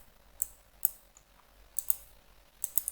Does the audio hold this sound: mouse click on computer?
yes